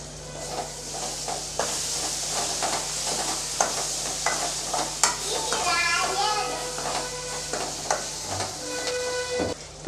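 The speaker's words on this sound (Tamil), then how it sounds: "இப்போ எல்லாத்தையும் நல்லா வதக்கி விட்டுறலாம்." Tomato gravy masala with cumin powder, garam masala and chili powder sizzles steadily in a pan while being stirred, with occasional utensil clinks and scrapes over a constant low hum.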